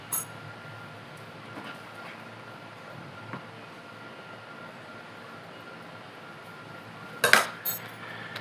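A metal tablespoon scoops cheese for jian dui filling, with a faint clink at the start, quiet scraping, then a sharp cluster of close metallic clatters near the end.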